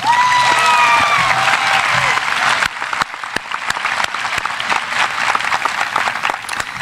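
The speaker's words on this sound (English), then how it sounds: "Can we please give everyone a big round of applause?" Applause from a crowd fills a high school commencement ceremony for a graduating class, steady and dense for several seconds with a few whistles near the start, then thinning slightly into scattered claps.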